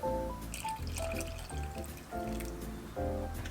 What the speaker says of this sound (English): We're going to go ahead and add our water in.